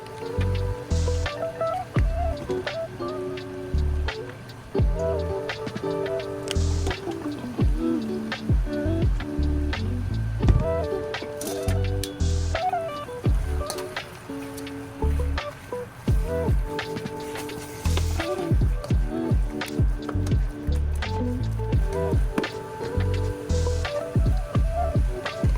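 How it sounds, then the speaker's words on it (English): Ingredients for a gumbo being stirred together in a skillet, giving soft wet squishing and irregular ticking scrapes that continue steadily throughout, close and moderately quiet. "I'm just going ahead and put all of this in the skillet, mix it up together"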